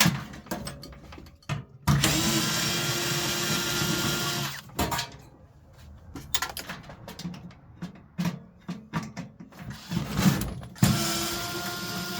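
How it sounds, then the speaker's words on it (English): Cordless driver backing screws out of a microwave, whirring motor bursts of varying length separated by short pauses and clicks, close and fairly loud with no talk. "I'm going to try and get out another few screws, if I can help it"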